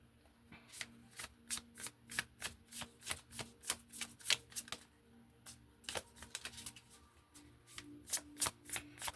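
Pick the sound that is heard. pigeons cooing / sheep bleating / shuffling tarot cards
shuffling tarot cards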